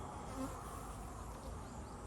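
Honey bees at a cow pasture apiary buzz steadily in a dense, close drone from many insects, with no talking.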